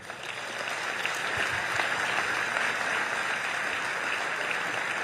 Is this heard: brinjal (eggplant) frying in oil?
no